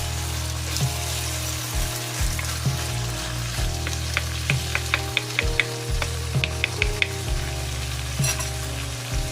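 Ground pork with mushrooms and snow peas stirred in a sizzling pan, steady frying hiss with repeated scrapes and clinks of the utensil against the pan, close up and continuous.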